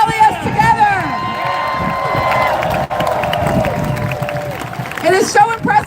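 A rally crowd cheers and shouts throughout, a steady loud mass of voices with whoops and applause-like noise, some nearer individual yells rising above it.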